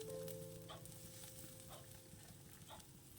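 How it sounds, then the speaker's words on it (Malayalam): Thinly sliced onions and grated coconut sauté in a pan as tomato chutney is made, giving a soft, steady sizzle, with a few faint scrapes from stirring and a low background hum. "ആ തേങ്ങയൊക്കെ ഉള്ളത് കാരണം ഇളക്കിക്കൊണ്ട് തന്നെ വഴറ്റിയെടുക്കണം"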